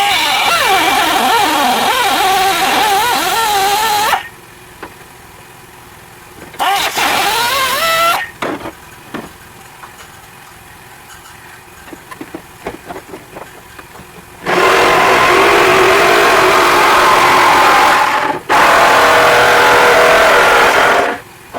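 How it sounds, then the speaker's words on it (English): A cut-off wheel grinds through the rusted floor pan of a Datsun 280ZX, coming in loud, sustained bursts with short pauses and a quiet stretch of faint clatter in the middle, with no talking. "now I'm going to make another cut with the cut-off wheel"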